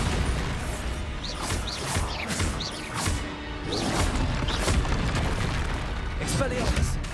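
Bombarda spell blasts in Hogwarts Legacy burst out as a rapid series of sharp booms and crashes amid spell whooshes and impacts, with a voice talking over the barrage.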